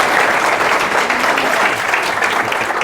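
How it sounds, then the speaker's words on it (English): Steady applause from an audience at a talk on AI and property development, dense and continuous for the whole stretch with no voices over it. "a round of applause for Steve"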